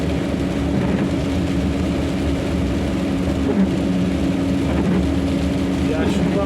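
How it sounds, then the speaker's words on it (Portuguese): Heavy rain pours on a road, a dense, constant hiss over the low drone of passing traffic and an engine, loud and unbroken throughout. "E a chuva apertou de novo."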